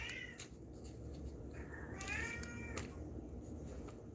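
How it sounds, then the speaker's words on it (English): A cat meows in a few rising, wavering calls, close by and fairly quiet, over a steady low indoor hum with no one talking. "Confirmation with the cat meowing."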